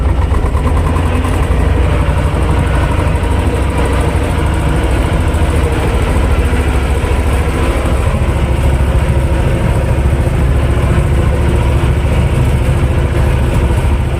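A tractor in low gear ploughing black chernozem soil for wheat: a loud, steady engine drone that runs unbroken throughout, with no voices over it.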